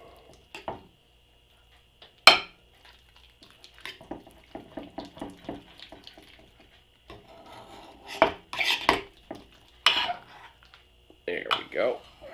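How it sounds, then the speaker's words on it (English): A knife scrapes and breaks up canned Old El Paso traditional refried beans in a dish, giving scattered close scraping and clinking strokes separated by short quiet gaps. "just break that up with your knife"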